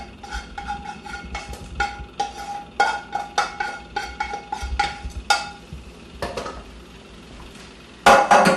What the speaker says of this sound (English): Now I'm going to add the onions and the celery into it.